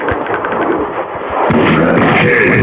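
Gunfire bursts in a zombie shooting game at a railway station, quick loud shots and booms in an uneven rhythm that thicken in the second half, with no speech.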